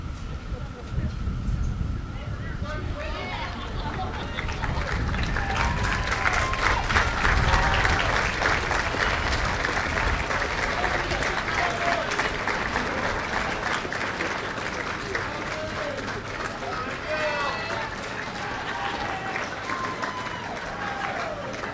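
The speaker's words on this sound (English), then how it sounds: "give them a good round of applause" Sustained audience applause at the Red Hook 2013 commencement ceremony, a dense, steady wash of many hands clapping, with scattered whistle-like cheers rising above it for over twenty seconds.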